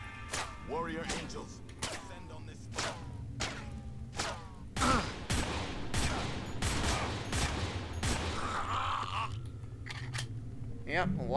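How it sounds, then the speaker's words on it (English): Repeated gunfire from Manhunt 2 cracks out in scattered sharp bursts across the stretch, loud and close, mixed with thuds and someone talking over the shooting. "Yep, lots and lots of shooting."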